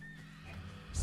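Horses neigh in the Ghost of Tsushima video game, a faint, distant whinny under low ambient game sound that swells at the very end.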